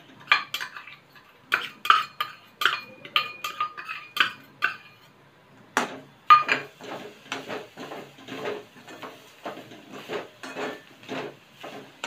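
Jaggery goes into a pan for a fresh coconut karanji filling, with a spoon clinking and scraping against the pan in repeated short bursts, separated by brief pauses, close by and with no talking.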